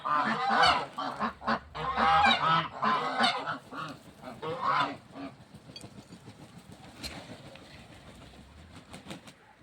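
Geese honk repeatedly in a noisy bunch on a farmyard, loud at first and then thinning out, with turkeys, chickens and other farmyard birds calling nearby.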